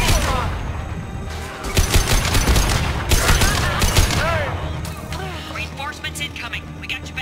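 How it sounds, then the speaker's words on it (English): A high-impact gunshot from the Mass Effect 2 video game, part of a dense burst of gunfire and sharp cracks amid loud battle noise, with voices talking over the action. "Firing a high-impact shot!"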